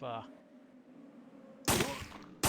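Gunshots fired in Biohazard 3 at Central Station, two loud sharp blasts, the first ringing out after a brief voice and a quiet pause, the second cut off at the end.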